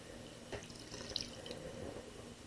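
A sponge is rinsed of soap bubbles in a basin, with water splashing and trickling softly, small drips and sloshes over a quiet running-water background.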